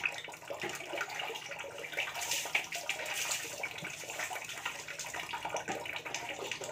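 Water running and splashing in a home bathroom as heated water is mixed with cold water for a bath, a continuous uneven gush with sloshing surges, fairly close and alone without talk.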